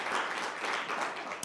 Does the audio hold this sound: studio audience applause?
yes